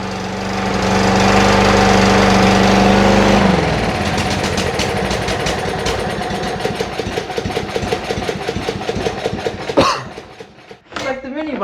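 A blown lawn mower engine that won't shut off runs loud and close. A steady roar shifts a few seconds in into a rougher, pulsing chatter that stumbles near the end.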